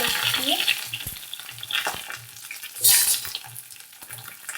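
Long-cut eggplant slices frying in mustard oil, a steady sizzle with a few soft clatters and a louder hiss burst near the end, fairly close and with no talk over it.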